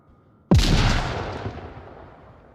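A grenade bursts in the VR shooter Onward, a sudden sharp loud blast after near silence, followed by a long decaying rumble.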